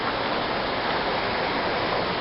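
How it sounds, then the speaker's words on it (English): Steady, even rush of a waterfall near Balquhidder church, a dense continuous wash of water noise heard on its own. "And that's part of the waterfall."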